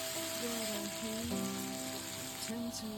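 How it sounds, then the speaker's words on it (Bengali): Pieces of fish frying in mustard oil in a home kitchen pan, giving a steady, close sizzling hiss throughout, with faint steady tones running underneath. "তো এর মধ্যে সর্ষে তেল দিয়ে মাছগুলোকে ভেজে নেব।"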